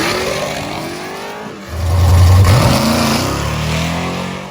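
A 6.0 V8-swapped S10 pickup launches hard, its engine surging from a low rumble into a rising rev as the front end lifts and the rear tire spins, loud and close.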